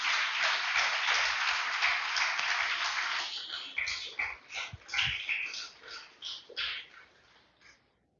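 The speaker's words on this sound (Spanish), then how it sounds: "Denle un fuerte aplauso al Señor, hermano." Church congregation applauding, a dense burst of clapping that carries for a few seconds and then thins into scattered claps and fades, with a few faint voices underneath.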